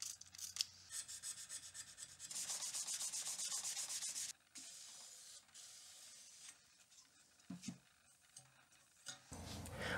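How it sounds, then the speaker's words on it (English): Belt sander grinding a mosaic Damascus hunting knife blade on a 400 then 600 grit belt, a loud sustained abrasive rasp that swells and drops as the blade is pressed and lifted, with brief pauses and shifts in contact. "I'm gonna go to a 400 grit belt and then a 600 and go to sanding"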